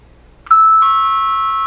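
A doorbell chimes two tones, ding then dong, loud and clean against near silence, the second note ringing out steadily to the end.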